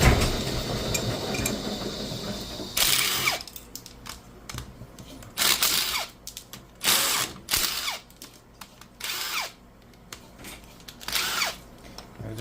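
A wrench ratchets and cracks loose fittings on an Amsco Steris exhaust manifold in short, loud bursts of clicking pawl noise, a mechanical buzz running before the first burst and no voices.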